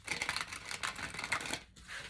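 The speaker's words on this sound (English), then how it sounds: "One last shuffle for Sagittarius" Rapid riffling of tarot cards being shuffled, a soft crisp flutter of many quick flicks over about two seconds, close by and fairly quiet.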